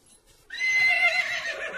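A horse by a stable in an animated children's cartoon lets out a single loud, close whinny that starts abruptly and trails off over about a second, alone without speech.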